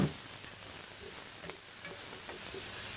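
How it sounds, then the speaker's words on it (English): Peppers sizzle steadily in a pan for a zucchini pie, a close, even hiss with a few faint stirring ticks. "add in the peppers for a bit, just to let them cook through"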